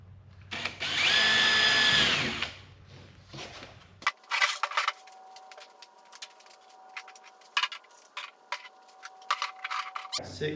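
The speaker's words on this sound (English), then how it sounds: "So we'll go ahead and pre-drill it." A power drill whines loudly for a couple of seconds pre-drilling a screw hole in a kayak crate, then stops, leaving scattered clicks and light handling noises.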